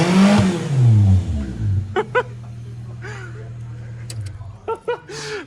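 A 1997 Toyota Corolla engine fires up and revs loudly, a deep rumbling roar settling into a steady idle with sharp blips of throttle near the end, close and loud, with voices over it.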